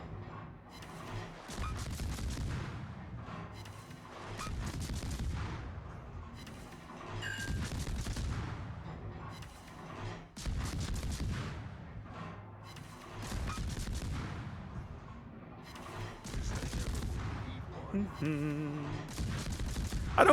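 Main gun salvos from the USS Fletcher, a Tier IX American destroyer in World of Warships, boom repeatedly at a steady rhythm every couple of seconds, each heavy blast trailing into rumbling decay.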